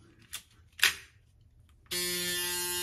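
A Braun Series 7 electric razor switches on after a couple of soft handling knocks, then runs as a loud, steady, high-pitched buzzing hum close to the microphone until the end.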